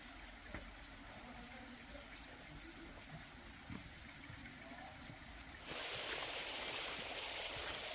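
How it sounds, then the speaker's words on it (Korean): A mountain valley stream in a Korean mountain village flows through a gap in a stone wall as a faint, steady watery hiss that grows clearly louder for the last couple of seconds, with no voices. "이쪽으로 이제 계곡 물이 흐르고 이 담 사이로 이렇게 물이 관통이 되도록 그렇게 되가 있네"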